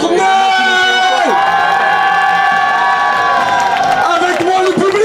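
At the French championships, an audience cheers and whoops loudly with scattered clapping, a dense continuous roar of voices that swells and dips across the moment.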